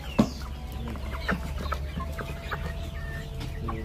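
Color broiler chickens on a farm cluck in short, scattered bursts close by over a constant low hum, with a sharper squawk near the start.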